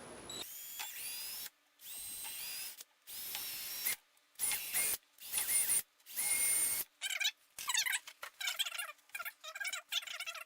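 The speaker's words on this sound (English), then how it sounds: "So I'm going to drill these out real quick." A power drill bores holes in the door panel material of a 2001 Lexus IS300, running in a string of short, loud, high-pitched whirring bursts separated by brief pauses, with the later bursts quicker and choppier.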